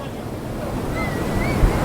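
Sea waves wash onto the shore in a continuous rushing surf, with wind buffeting the microphone and a faint thump near the end.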